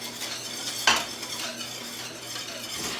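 A pot of crabapple jelly with sugar and ginger bubbles and hisses steadily, with a brief clink of a utensil against the pot near the start.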